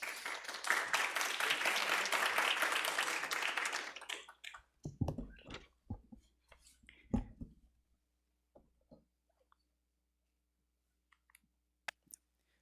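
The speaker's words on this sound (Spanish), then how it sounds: "Un aplauso, por favor." A short burst of audience applause at an academic art presentation on contemporary Japanese culture, dense clapping for about four seconds, then thinning into a few scattered, isolated claps before quiet.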